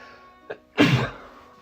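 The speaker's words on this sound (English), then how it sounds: "I gotta sneeze." A short inhaled catch is followed by one sharp, close sneeze that trails off quickly.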